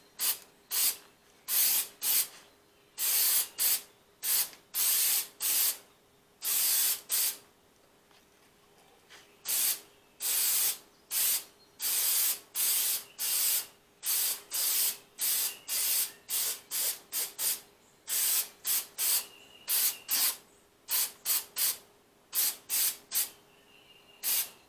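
Short bursts of aerosol spray hiss up close as a light coat goes onto a Mercedes SLK55 AMG headlight, dozens of quick pulses in an uneven rhythm with brief quiet gaps between them.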